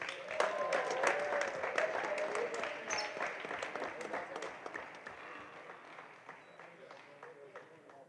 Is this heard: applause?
yes